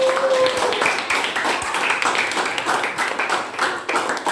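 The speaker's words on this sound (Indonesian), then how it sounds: "ibu sekali lagi beri aplaus untuk yang presentasi" A classroom full of students claps for their classmates after a presentation, a steady dense patter of many hands that holds at an even loudness for several seconds.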